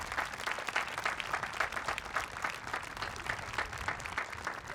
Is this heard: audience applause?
yes